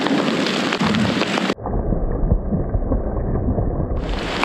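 Hail and rain pour down on a dirt road in a canyon, a dense, loud hiss that suddenly drops to a duller, muffled patter midway before the full bright clatter returns.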